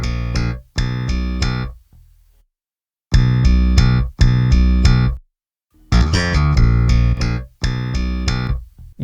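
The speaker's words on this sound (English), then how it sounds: "And in the context of the mix, super happy with this bass sound." Finger-played bass guitar with compression and added low end, in short phrases of thick, sustained notes separated by brief gaps, heard alone with no talking.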